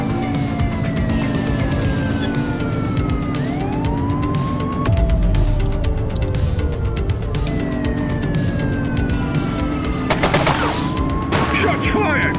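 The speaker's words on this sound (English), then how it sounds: "Shots fired!" Gunfire in The Precinct police game, loud repeated shots layered over wailing police sirens and car engine noise, with a dense burst of rapid fire near the end and radio-style voices in between.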